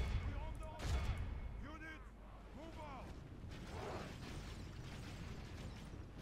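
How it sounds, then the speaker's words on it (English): Volleys of gunfire ring out on a battlefield in Stainless Steel, a Medieval II Total War mod, with several sharp bursts and pops early on, then a scattered crackle of shots over background rumble and distant voices. "What are they shooting at?"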